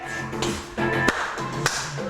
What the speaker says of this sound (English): Walk, walk, clap, clap.